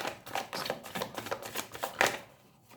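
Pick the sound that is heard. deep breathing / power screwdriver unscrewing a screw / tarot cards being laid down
tarot cards being laid down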